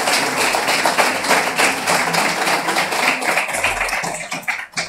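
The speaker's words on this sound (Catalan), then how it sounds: "Doncs els fem un aplaudiment i els farem arribar el diploma." Applause from a lecture audience at a ceramics talk, dense steady clapping with no voices that fades out at the end.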